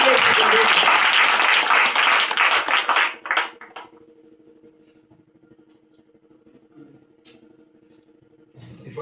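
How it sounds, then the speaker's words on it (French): A church congregation at an evening prayer meeting bursts into loud, dense applause and cheering acclaiming Jesus for about three seconds, then it drops away abruptly, leaving a quiet room with a low steady hum and scattered faint sounds. "Acclame très puissamment Jésus."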